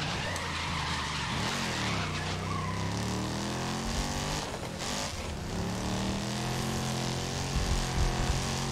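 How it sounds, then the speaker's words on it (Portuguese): Tires skid and squeal as a car drifts in the GRID 2019 racing game, with a loud engine roaring steadily underneath and pitch sweeps rising and falling through the slide. "Eita, esse drift!"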